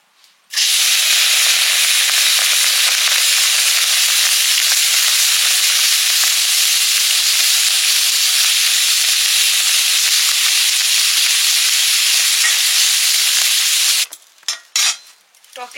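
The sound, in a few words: puti fish frying lightly in mustard oil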